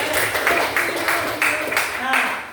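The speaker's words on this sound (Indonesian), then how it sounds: "Tepuk tangan dulu untuk temannya." Children clapping for a classmate in a classroom, a steady run of scattered, fairly close hand claps with rhythmic bursts, under a speaking voice.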